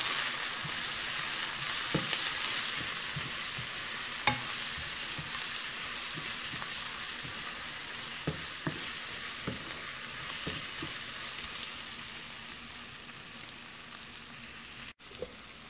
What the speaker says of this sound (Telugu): చిన్న స్పూన్ కారం, టొమాటో ముక్కలు వేసుకొని బాగా కలుపుకోవాలి.